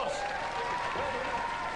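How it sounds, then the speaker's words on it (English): A studio audience at a Robot Wars heat gives a robot team a dense round of applause, steady and close, with voices and cheering mixed in. "Ladies and gentlemen, give them a round of applause."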